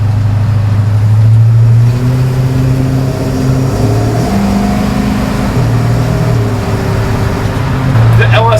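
A 1953 Chevy 3100 farm truck, LS-swapped with an L96 6-liter V8, drones steadily from inside the cab while driving, with a loud low engine hum that shifts pitch in steps and a constant road roar.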